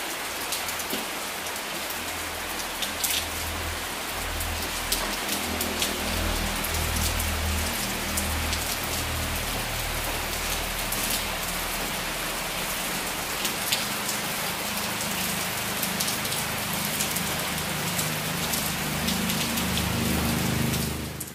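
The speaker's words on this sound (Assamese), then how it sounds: "এই বৰষুণ বৰকৈ পৰিব" Heavy rain pours steadily during a windy storm, a dense, even hiss of drops hitting surfaces that continues unbroken for about twenty seconds with no voices.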